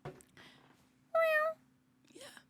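A voice imitates a cat's meow in one drawn-out, close, loud mew, framed by casual talk before and after.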